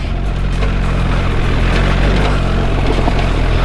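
A 2024 BMW R1300GS motorcycle climbing a steep, dusty, rocky trail in second gear over big rocks, its engine a loud, steady, close rumble with constant wind-like roar and no talk.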